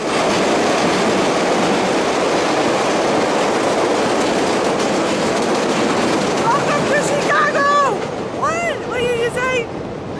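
Loud, continuous rumble of a passing train in Chicago with rattling wheels and wind, ending in high metallic squeals from the rails.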